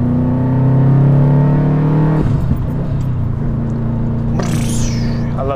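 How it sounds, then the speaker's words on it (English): A Subaru STI engine revs up under acceleration with rising turbo boost, a loud close harmonic drone climbing steadily before shifting down, then building again with a brief hiss of released boost near the end. "I'm gonna go ahead and freaking boost in front of this Dodge truck because I can."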